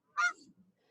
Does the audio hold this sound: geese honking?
yes